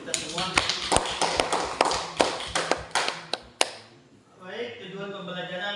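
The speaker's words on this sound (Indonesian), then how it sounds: "Tepuk tangan dulu untuk kita semua." A class claps in a quick, uneven run of sharp slaps for a few seconds, close and loud, then fades into a teacher's voice speaking.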